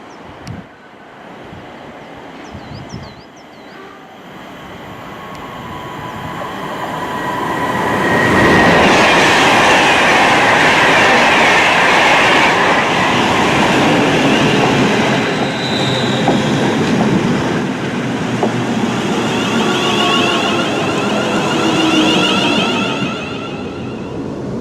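A train pulls into Stafford station, its rumble building to a loud, steady roar with rail clatter and faint wheel squeal, heard from on board or close by, with no talk.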